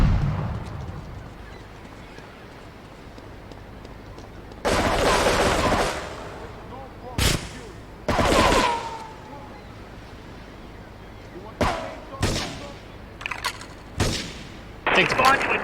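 Grenade blasts and gunfire from the video game Grand Theft Auto 3: a deep roaring explosion, then sharp single shots and further bursts of explosions and rapid fire spaced irregularly over a low background hum.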